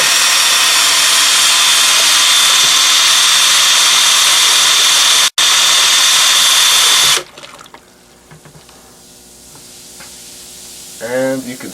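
A drill bit churns precipitated silver in a water-filled bucket, a loud, steady hissing, sloshing roar that cuts off abruptly partway through, leaving a quiet room with faint movement.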